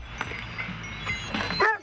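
Hunting dogs on a black bear hunt give a few short yips and whining barks at close range, rising into a brief excited yelp at the end.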